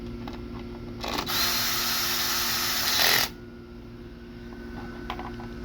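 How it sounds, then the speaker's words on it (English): Electric drill tightening the drive face bolts on a Honda Ruckus scooter, one close, loud whirring burst of about two seconds rising slightly before cutting off, with quiet workshop hum before and after. "I'm just going in because I don't like to tighten stuff a whole lot with the electric drill."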